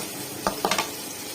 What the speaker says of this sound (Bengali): মশলাটা কষিয়ে দেব।